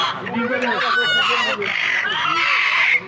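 A chicken clucking close by in a rapid, busy stream of calls, with a rooster-like crow-ish cry mixed in, loud and continuous over a short stretch.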